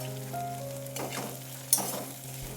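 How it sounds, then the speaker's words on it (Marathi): Green masala for vada pav fries in hot oil in a pan, a steady soft sizzle with a couple of brief stirring scrapes and clicks, close and fairly quiet. "आता हा जो भाजीसाठी आपण जो मसाला तयार केलेला आहे हा तेलामध्ये 1 ते 2 मिनिटं चांगला परतवून घ्यायचा आहे"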